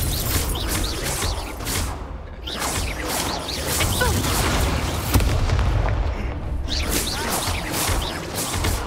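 Repeated blasting spell explosions in the Hogwarts Legacy video game: loud, heavy booms and crackling bursts in quick succession with short dips between them.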